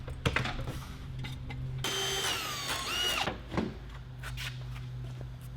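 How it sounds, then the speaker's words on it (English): A power drill whines in a sustained burst for about a second and a half while boring holes into a Volkswagen Mk4 R32 front bumper, with scattered taps and clicks of handling around it in a garage. "start drilling holes in my bumpers."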